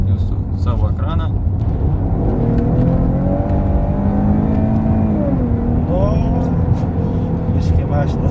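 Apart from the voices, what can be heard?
Maserati Ghibli 3.0 V6 twin-turbo engine revving while driving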